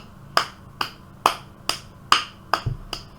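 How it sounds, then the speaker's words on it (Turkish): One person claps alone seven times, each a crisp separate slap in a fairly even rhythm, close and dry with quiet between the claps. "Kendimi alkışlıyorum şu an."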